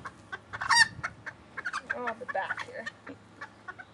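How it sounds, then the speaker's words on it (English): Belgian Bearded d'Uccle chickens in a chicken house and yard cluck close by with soft, frequent calls and a steady low hum behind them, while a person speaks briefly over the top. "They're clucking."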